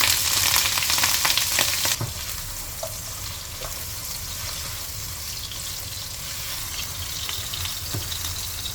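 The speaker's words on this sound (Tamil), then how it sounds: "இப்போ இந்த பன்னீர் துண்டுகளை இப்போ இந்த எண்ணெயில் நம்ம பொரித்து எடுத்துக்கலாம்." Paneer cubes frying in oil for palak paneer, a loud hissing burst as they go in, settling into a steady close bubbling sizzle with occasional light taps.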